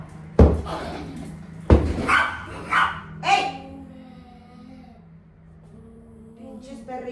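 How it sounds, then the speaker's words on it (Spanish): Small dogs bark in a few sharp, loud bursts close by, then settle into softer whimpers and yips; someone shouts briefly over them. "Pinches perritos, de veras."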